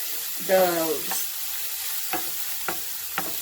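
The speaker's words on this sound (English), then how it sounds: "Onion fry, which you're going to fry it till it becomes translucent" Faint steady sizzling of onions frying in a pan, with a brief voice-like murmur near the start and a few soft clicks of stirring.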